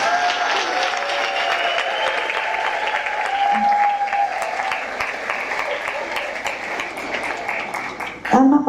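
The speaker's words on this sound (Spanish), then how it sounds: "Aplausos." Applause rises from the audience at a women's church gathering, a sustained, even patter of clapping heard alongside soft music, ending with a sharp thump near the close.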